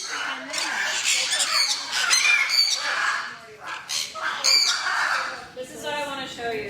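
Birds squawk loudly and repeatedly in a zoo barn, harsh overlapping calls in bursts, with people talking alongside.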